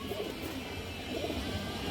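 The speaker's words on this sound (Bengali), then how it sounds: "পুরোনো লাইনের কালো বাঘা কবুতর" An old-line black Bagha pigeon coos softly in low, rolling murmurs against a steady background hum, close by and with no one talking.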